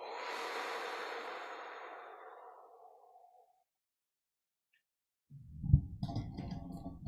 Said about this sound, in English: Take a deep breath in and hold it. And let it go.